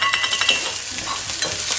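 Chilli sizzles and is stirred in a hot frying pan while poha is cooked, a steady bright frying hiss with quick scraping stir strokes, close and without talk.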